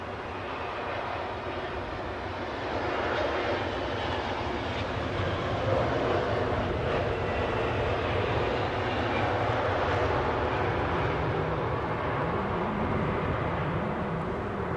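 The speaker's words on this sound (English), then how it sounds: "Inbound from Boston, we have a British Airways 777 200 extended range." A British Airways Boeing 777-200ER inbound from Boston arrives at London Heathrow, its broad engine roar steady and fairly loud, swelling slightly after the first few seconds and holding without any voices over it.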